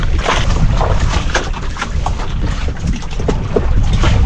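A boat out at sea, its motor and water noise forming a steady broadband rumble with wind buffeting the microphone, close and loud throughout with no talking.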